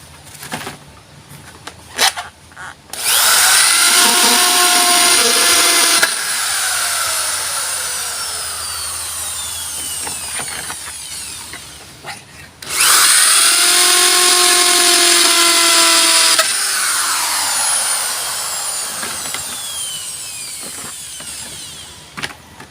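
A power drill drives bolts into a wooden chair being repaired, two long loud whirring runs, each with a rising then settling pitch and a short pause between, close up.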